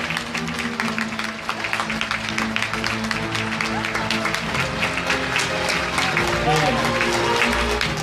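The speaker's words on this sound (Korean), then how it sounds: "다시 한번 박수 보내드릴까요?" Sustained audience applause at a 2018 Busan welfare demands rally, a continuous crowd clapping wash with low rumble and voices underneath, steady for the whole stretch.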